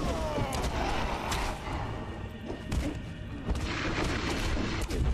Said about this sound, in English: he's doing fire breath